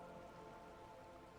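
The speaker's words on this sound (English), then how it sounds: "rain keeps falling down. On the wooden boards she's standing on, and on the water around you." Freezing rain falls on wooden boards and surrounding water in Disco Elysium, a soft, steady hiss of drops that is faint and continuous, with no voices.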